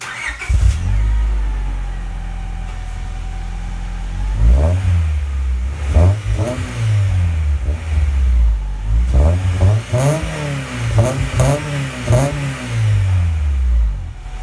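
A 2001 Honda Prelude SH with a Yonaka catback exhaust, close up: the engine starts and settles into a steady idle, then a string of sharp throttle blips rise and fall, louder and quicker toward the end.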